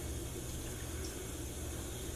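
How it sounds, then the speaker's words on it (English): Canola oil is poured into a bowl for poppy seed salad dressing, making a soft, steady, continuous hissing stream. It is quiet and unbroken, with no talking over it. "So you want to just go ahead and pour the canola oil in."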